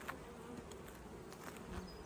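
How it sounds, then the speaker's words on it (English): Honey bees buzz around their hives, a steady, fairly faint swarm drone with individual insects passing close, no voices. "These bees have been working hard all year, making up some honey."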